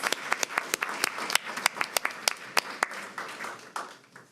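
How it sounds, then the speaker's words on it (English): A small audience at a school board meeting claps for student artists, with a few sharp, distinct nearby claps standing out over lighter scattered clapping that fades toward the end. "Please give a round of applause to our Schwab artists."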